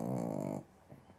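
A small young pug gives a close, low growling whine that stops after about half a second, followed by quiet snuffling.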